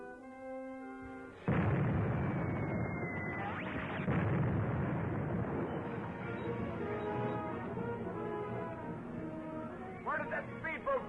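A boat's deck gun firing in a 1945 serial, a sudden heavy blast followed by sustained rumbling explosions and booms under dramatic orchestral music.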